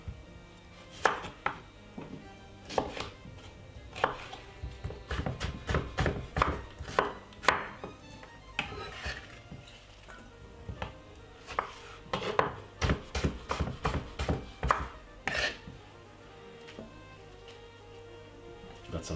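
A knife chops cucumber for a salad on a board, with irregular bursts of sharp, close thuds, some quick runs and some spaced strokes, plus occasional clatter of dishes.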